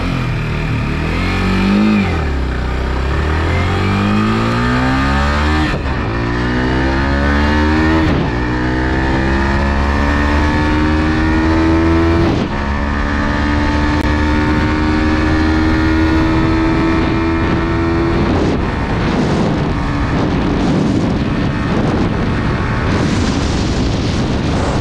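A 2021 Yamaha R15 V4 sport motorcycle accelerates hard from a standstill toward 100, its engine screaming up through the revs in rising sweeps. Brief drops mark each gear change before it climbs again, loud and close the whole way.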